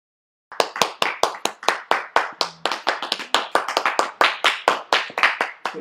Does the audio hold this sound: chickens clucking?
no